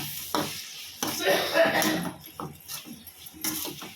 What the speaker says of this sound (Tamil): தக்காளி சேர்த்தாச்சு. நல்லா வதக்கவும்.